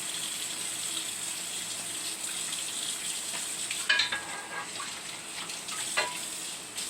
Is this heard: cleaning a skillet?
yes